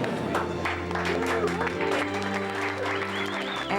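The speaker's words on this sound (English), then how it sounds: "everyone around us clapped" A crowd of onlookers in an airport arrivals area breaks into steady, sustained clapping around a first embrace, with sparse emotional voices and music-like tones running underneath.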